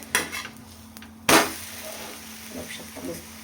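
A besan poli flipped on a hot pan, with a sharp clatter of a spatula or utensil against the pan, brief scraping and light sizzling, close and clear.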